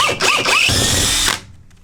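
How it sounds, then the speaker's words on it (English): A power drill revs up in a few short rising whines, then bores steadily into floor rivets of a Sprinter van for about a second before stopping abruptly. "I just have a drill bit here, and I'm just going to"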